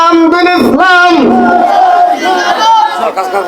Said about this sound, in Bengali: আওয়াজ করবেন জোরে বলবেন নারায়ে তাকবীর